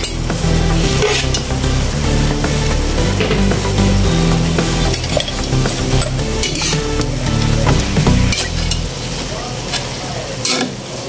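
Tofu (tokwa) frying in a pan seasoned with black pepper, a steady loud sizzle with frequent stirring scrapes and clinks running throughout, no voices.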